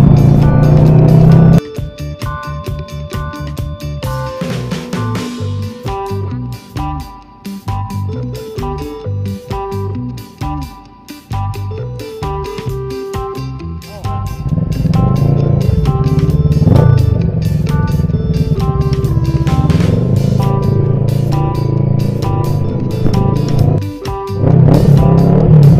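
Many motorcycles travel a road in Leyte, Philippines, with a loud, close engine drone whose pitches rise and fall with revving and gear changes.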